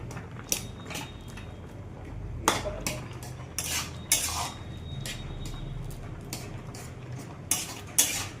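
A spoon stirs boiling vegetables in a pot, with close clinks and knocks of metal against the pot and a softer bubbling, scraping wash underneath and no talk.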